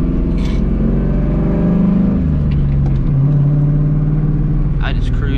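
A 1999-2004 Ford Mustang GT V8 cruising, giving a steady loud low engine drone with slight pitch shifts, under continuous talk.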